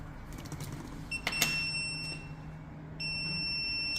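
An FPV drone sits disarmed and gives a short, high electronic beep while a steady background hum runs underneath, and a faint tone returns toward the end.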